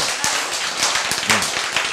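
An audience at a lecture on unconditional love claps in a short, scattered burst. A voice briefly murmurs over the applause.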